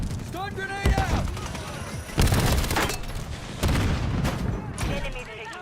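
Stun grenades bursting in a multiplayer shooter's objective fight, several loud booms and gunfire cracks packed into a few seconds, with game voice callouts over the top.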